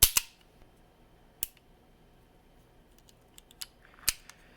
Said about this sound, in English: Did you hear that little click?